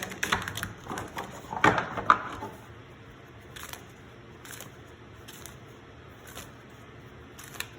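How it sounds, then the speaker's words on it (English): Deck of White Numen tarot cards being shuffled by hand, quick papery riffles and taps clustered at the start, then sparser light clicks and flicks trailing off, close and fairly quiet. "I have already shuffled the White Numen, but I'm going to do it one more time."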